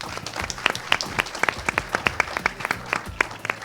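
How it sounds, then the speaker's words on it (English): Indoor crowd of about a hundred expectant mothers at a Lifebuoy brand launch event claps steadily, sharp individual claps standing out over a dense wash of hands, close and lively for a few seconds. "with a huge round of applause"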